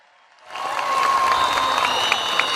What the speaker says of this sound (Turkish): Bir alkış bütün emeklilere.